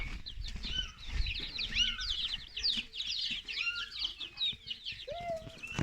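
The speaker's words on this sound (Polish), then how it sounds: "Tutaj Feniks, ten fajniejszy taki kogucik będzie." Ornamental chickens and a rooster cluck and call repeatedly from close by, layered over one another in a steady, busy stream of fowl chatter with scattered higher squawks.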